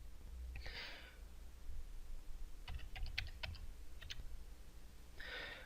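Password being typed on a computer keyboard at an office reception workstation: a quick burst of key clicks in the middle, with a few more isolated taps after it, fairly close and clear against faint room noise.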